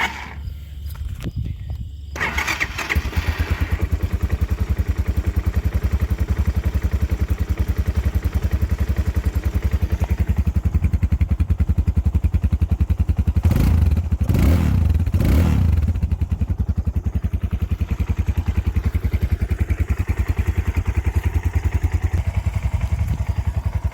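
A Hawk 250 motorcycle with 2,510 miles fires up on half choke and settles into a steady, loud single-cylinder idle, with a few louder surges midway and faint clatter at the start.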